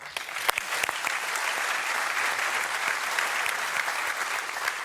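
Steady applause from a sizable crowd at The International 2018 Dota 2 finals, sustained and even throughout, with a few sharper individual claps standing out.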